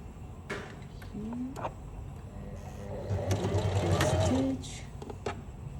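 A sewing machine runs in short bursts while stitching skirt pleats, its low hum swelling for a longer run near the middle, moderately close, with a voice talking over parts of it.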